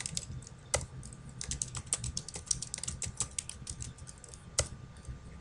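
Someone types on a computer keyboard in Notepad, a brisk run of close, crisp key clicks in uneven bursts with short pauses, no talking.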